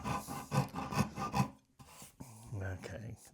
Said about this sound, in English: Now, let me get the hog here. Oh, yeah. There we go. That's like cutting a big chunk of steak out. Oh, I love this rasp.